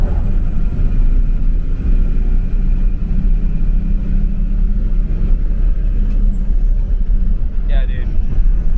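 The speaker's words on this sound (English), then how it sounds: "Bit of the fuel up, but that turbo sure sounds good." Inside a Cummins-swapped square body truck on the move, a loud steady engine drone runs beneath a high rising and falling turbo whistle, with voices briefly near the end.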